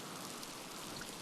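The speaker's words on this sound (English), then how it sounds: "it's raining inside my house" Steady rain hisses as a dense, even wash of drops in the survival video game Miasmata, continuous and fairly loud with no other sound or talking.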